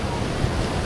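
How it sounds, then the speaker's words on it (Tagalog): Strong ocean waves break on a Pangasinan beach at sunset, a dense, unbroken roar of surf with wind noise over a very short stretch. "Lakas ng alon, guys."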